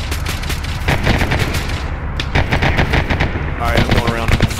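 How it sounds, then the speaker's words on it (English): AK rifles crack in rapid automatic bursts during a night-time military shooter firefight near a fire station, loud, sharp shots in quick volleys with short gaps, some fainter distant fire mixed in. "That's AK fire."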